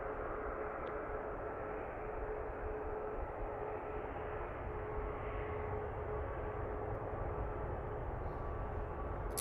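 Alaska Airlines airliner landing on runway 16 left at Seattle, a steady, continuous engine roar and rumble at moderate distance holding level throughout, with no talk.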